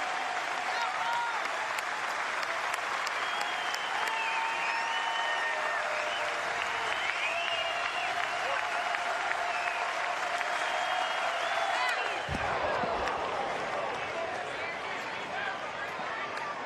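A baseball stadium crowd at an NCAA Super Regional game in Austin applauds and cheers loudly and steadily, with a commentator talking over the noise before the crowd sound abruptly thins near the end.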